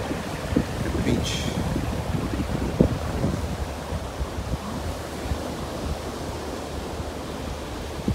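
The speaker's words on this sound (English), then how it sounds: "The water's a bit smoother than the pool, it's a bit choppy out there in the ocean." Choppy ocean waves washing at a Maldives resort beach, a continuous rumbling surf wash with wind buffeting the microphone, steady and fairly close.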